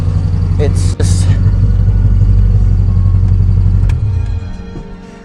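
A failing Subaru GC8 engine idles roughly with a loud, steady rumbling drone and uneven, sputtering pulses, then winds down and fades as it shuts off near the end.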